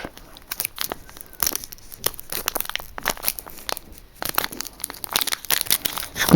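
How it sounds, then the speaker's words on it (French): Sticky tape crackles and rips off a Yu-Gi-Oh! card booster pack in a series of sharp tearing bursts close up, mixed with crinkling packaging. "J'ai réussi à enlever le scotch."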